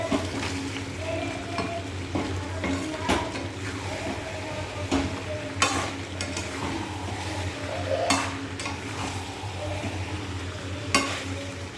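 Food being kosha stir-fried in a pan: a steady close sizzle with repeated scraping stir strokes and occasional sharp clinks of the utensil against the pan, with no talking.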